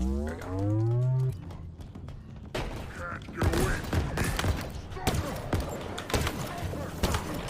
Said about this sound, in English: Shooting feels so fucking good.